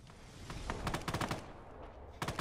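Automatic gunfire in the Fallout 4 game, modded desert setting: several clusters of rapid shots, a long burst in the middle and another at the end, loud and close over a steady background rumble.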